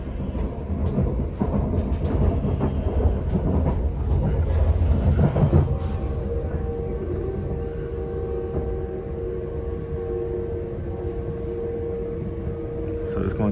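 Train interior rumble on a ride toward Amsterdam Central, a steady low roar with wind buffeting that eases into a smoother hum with faint tonal whine after a few seconds; no one speaks.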